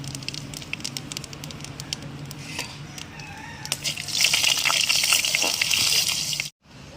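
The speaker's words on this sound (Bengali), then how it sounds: "তেল গরম হয়ে গেছে আমি ফোড়নের জন্য শুকনো লঙ্কা তেজপাতা আর কিছুটা জিরে দিয়ে দেবো" Dry red chillies, bay leaf and cumin crackle in hot oil in a home kitchen. A faint sizzle swells into a loud, dense spitting fry partway through, then cuts off abruptly near the end.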